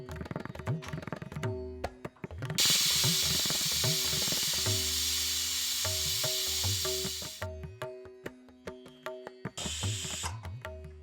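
A pressure cooker on the stove vents broken wheat khichdi with loud, sustained whistling hiss lasting about five seconds, then a second shorter burst, over low rumbling and faint clinks.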